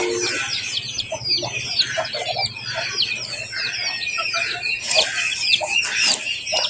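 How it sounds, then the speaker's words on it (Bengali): Chickens and chicks cluck and cheep continuously in a busy farmyard, a dense chorus of close calls with a low steady hum underneath. "বাবা এই মুরগি ধরতে হবে তো"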